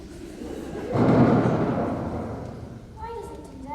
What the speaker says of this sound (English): the lightning says something to the thunder, and the thunder answers it back